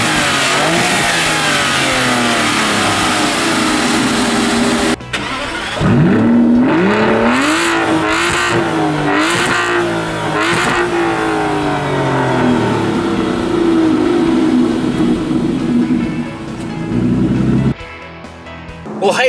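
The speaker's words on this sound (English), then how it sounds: "let's see how the engine looks and sounds" A 2016 Aston Martin Rapide S with its V12 engine revs hard, rising and falling in repeated throttle blips over a steady idle, loud and close, before settling back down.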